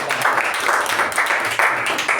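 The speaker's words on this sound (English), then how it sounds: "Let's put hand together to welcome TM Madhusudan, our Toastmaster Madhusudan, with thunderous applause." Members at a Toastmasters club meeting clap to welcome the Toastmaster, a lively, close burst of applause that swells in rhythmic waves.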